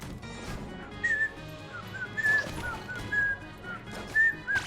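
A person whistles a short melodic tune in repeated high phrases, heard alone over light background noise during a video game session.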